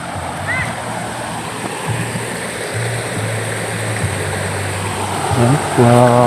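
A river in Antipolo, Rizal rushes along steadily as people cross it, a continuous broad hiss of flowing water close by, with voices talking over it and a slight surge near the end.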